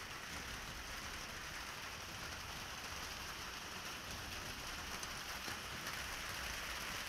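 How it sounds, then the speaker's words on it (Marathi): A hailstorm in Karad beats down steadily, a dense, unbroken roar of falling rain and ice hitting surfaces. No voices. "गारांचा पाऊस कराडमध्ये आहे।"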